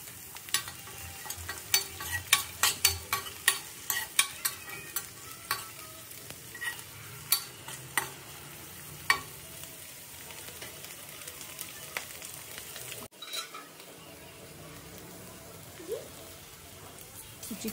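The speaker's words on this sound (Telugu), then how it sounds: "ఇప్పుడు క్యారెట్ ముక్కలు, తరిగిన బీన్స్ వేసి వేయించుకుందాము." Carrot pieces and chopped beans frying in a pan, with a rapid series of sharp spoon strokes and crackling sizzle early on, then a quieter, steady frying hiss.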